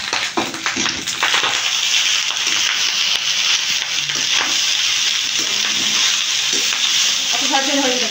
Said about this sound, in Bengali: ভাতটা ভালো করে নাড়িয়ে ভেজে নেব।